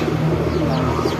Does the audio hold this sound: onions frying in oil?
no